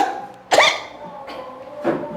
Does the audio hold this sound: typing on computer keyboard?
no